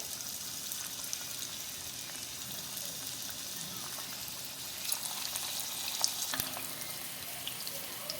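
Bonda balls made from idli batter deep-fry in hot oil in a kadai, giving a steady soft sizzling hiss with faint bubbling and occasional small pops, fairly quiet and close.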